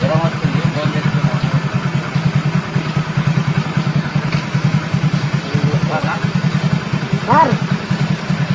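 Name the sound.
motorcycle engine idling at a police check post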